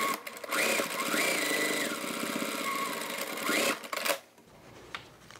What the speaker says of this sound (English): So now we go to the machine and we sew all 4 corners.